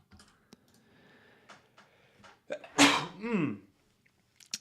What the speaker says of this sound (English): I really feel like I have a sneeze coming on.